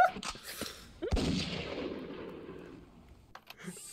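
A single sharp gunshot from a Jackbox party game blasts out, followed by a long rumbling decay that fades over several seconds, with faint clicks before it and a small blip at the end.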